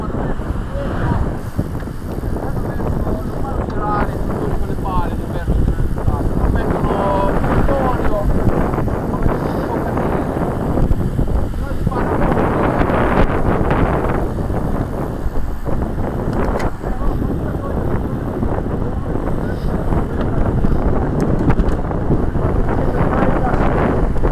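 Strong wind buffeting the microphone during an Italian amateur cycling ride from Arceto to Sestola, a continuous roaring rumble throughout, with people talking underneath.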